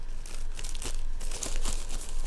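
An ordinary plastic sandwich bag crinkles and rustles close by in a kitchen, a steady stretch of crackling handling noise with small louder crunches.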